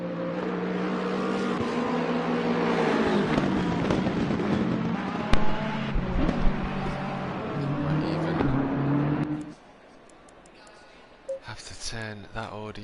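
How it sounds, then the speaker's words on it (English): A BMW GT3 race car's engine roars loudly and continuously at Laguna Seca in a racing video game, with commentators talking over it before the noise cuts off abruptly near the end. "listen to the roar of that BMW"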